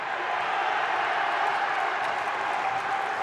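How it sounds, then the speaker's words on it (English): During a high school basketball game between Sunrise Christian and Chicago Prep, a gym crowd roars with steady cheering and applause, a continuous, fairly loud wash of noise from many people with no break. "And the crowd goes wild"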